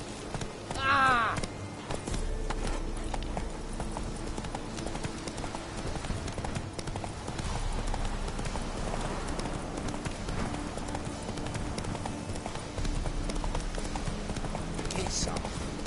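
Geralt's horse Roach clip-clops along in The Witcher 3, steady hoofbeats running under game music and shouted dialogue, with voices talking over it.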